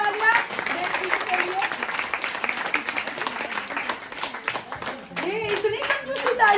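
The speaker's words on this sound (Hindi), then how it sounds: "ये इतनी मजबूत तालियां है" A crowd in Gurgaon Sector 23 claps continuously in a warm welcome, dense steady applause close by with a few voices calling out over it.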